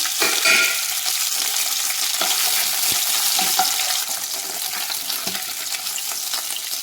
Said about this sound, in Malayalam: വെണ്ടയ്ക്ക നല്ലോണം വറുത്തെടുക്കണം